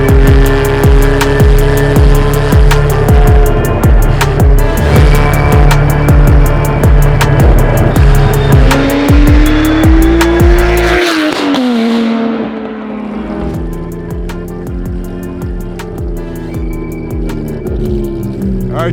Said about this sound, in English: we are going for a drive in this bonkers S-Klub build